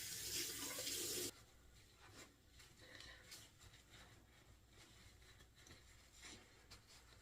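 A bathroom tap runs into a sink while someone rinses their face, a soft steady stream that starts with a louder splashing gush and then continues faint and close with light splashes.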